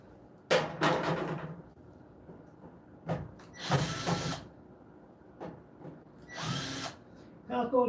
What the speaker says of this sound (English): Can we put this on with the drill?